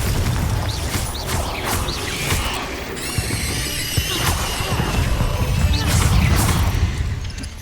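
Fiery Confringo spell blast in the Hogwarts Legacy video game, a loud burst of crashes, whooshes and bright zinging effects layered over constant battle noise.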